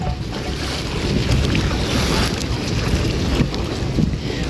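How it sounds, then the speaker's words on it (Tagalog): A boat out on the water at El Nido, Palawan, with a continuous rushing wash of waves and heavy wind buffeting the microphone. "Ayan yung bangka namin mga kaibigan, mga kuya"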